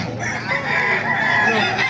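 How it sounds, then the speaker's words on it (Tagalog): Chinese chickens at a livestock market in Baliuag, Bulacan, a rooster crowing loudly and close in one sustained, strained call, with hens clucking around it. "Ayan, mga Chinese chicken, oh."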